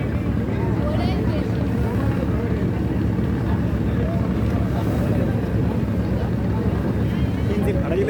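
Steady low engine drone of a passenger launch racing on a river, continuous and loud throughout with wind buffeting, without clear speech over it.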